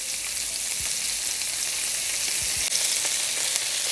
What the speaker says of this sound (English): Allow the bottom to sear, get a nice browning